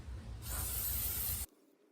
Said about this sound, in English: Hit it with a little bit of brake clean.